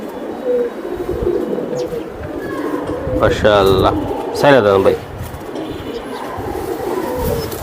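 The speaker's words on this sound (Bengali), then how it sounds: "পুরানো কবুতর অনেক পুরানো কবুতর" Old Giribaz pigeons at a seller's coop coo in a couple of short bursts close by, while someone talks over the steady background din.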